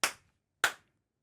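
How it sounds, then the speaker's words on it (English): Two sharp, single hand claps about half a second apart, close to the microphone in a quiet room, each dying away quickly. "We need you to clap for the mic."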